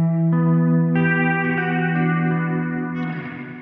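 A Meris LVX delay pedal set to about 50% feedback sustains a steady, rich electric tone whose repeats stack and shift at step changes, ringing out loud and alone before slowly fading.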